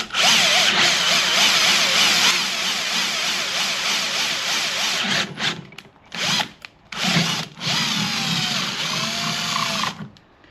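A handheld power drill slowly bores a hole into a surface on a Can-Am Spyder, its motor whining loudly and steadily close by, then cutting out and restarting in several short bursts.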